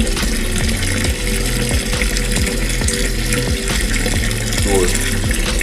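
Water from a pipe pours steadily into a container being filled for betta fish, producing a loud, continuous rushing gush with a low churning rumble throughout.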